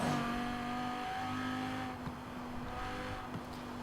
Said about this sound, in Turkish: Şimdi şehir merkezine doğru tam gaz gidiyoruz.